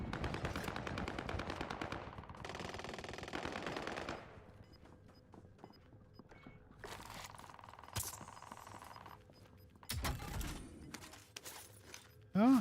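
Laser gun firing in a shooter video game, rapid bursts of sharp electronic shots in several clusters with quiet gaps between, fairly faint overall.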